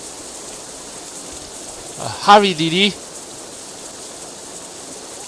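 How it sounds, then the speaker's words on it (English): Heavy rain pours steadily throughout a scene in the visual novel game Katawa Shoujo, a dense hiss that never lets up, with a short spoken line cutting in near the middle. "I can barely make out Lilly's voice over the deafening pounding of the rain."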